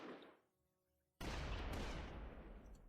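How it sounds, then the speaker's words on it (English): An explosion in the Close Combat war game: after a short lull, a sudden loud broadband blast with a sustained rumbling roar that fills the rest of the moment, with no voices. "Okay, what was that explosion?"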